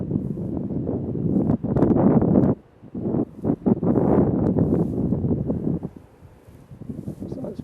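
Gusty wind buffets the microphone on an open gorse ridge, a rumbling roar that rises and drops in strength with brief lulls between gusts, and no voices.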